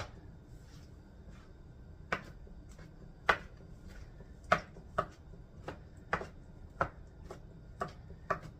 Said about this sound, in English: So I'm going to chop those into smaller pieces.